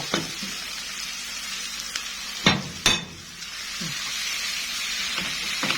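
Beef liver fries in a pan with a steady, close sizzle, broken by a couple of sharp clacks from a utensil stirring it.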